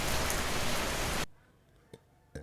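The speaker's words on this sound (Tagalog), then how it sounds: "Oy kusog kay ulan ma'am." Heavy rain pours down at night as a loud, steady hiss, then cuts off abruptly halfway through, leaving near quiet with a couple of faint clicks.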